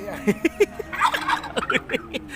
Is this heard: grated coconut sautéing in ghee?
no